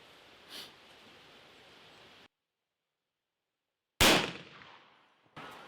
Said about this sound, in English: It might not be fair shooting 44 Magnum out of a rifle.